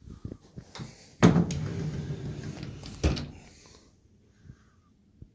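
A hotel room closet door swings and bangs, two sharp knocks a couple of seconds apart with a rattling creak between them, then faint taps in a quiet room.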